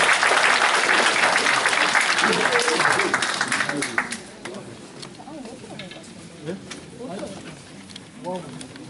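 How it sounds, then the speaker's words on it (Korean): An assembly of apartment owners at a reconstruction association general meeting, held in a church, gives a dense burst of applause that fades after about four seconds into someone speaking over a hall microphone. "큰 박수 한번 드리겠습니다"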